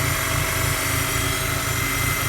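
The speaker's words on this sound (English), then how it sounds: "That's a tranny whining." A 2002 Jetta with a 2.0 engine runs steadily and loudly at close range during a cold start, with a rhythmic low pulsing chug and a constant high whine from the transmission layered over it.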